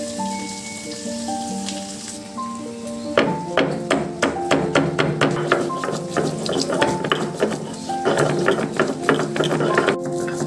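Ginger and garlic crushed by hand for a home-cooked mutton curry. After a quiet start with soft tonal notes, a quick, rhythmic series of close, hard knocks sets in and keeps a steady pounding beat.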